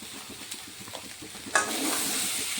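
Potatoes and cauliflower are sautéed in a pan for Bengali rui fish curry, with rhythmic stirring scrapes; partway through, the pieces go in and a loud sizzling hiss swells and holds steady.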